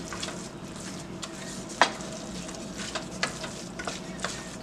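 Browned meat filling for Barbados meat rolls is stirred in a pot: a continuous close sizzle broken by scattered spoon scrapes and knocks, one sharper clack standing out.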